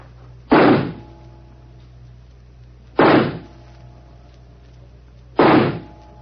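Three revolver shots fired at a target ring out one at a time, evenly spaced a couple of seconds apart, each a sharp loud crack with quiet in between.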